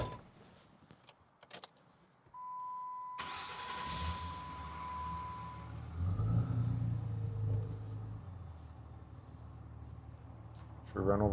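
A car on a freeway test drive after repair work, with a steady engine and road rumble running throughout while people talk inside the cabin; a brief tone and a louder stretch of driving noise sit partway through.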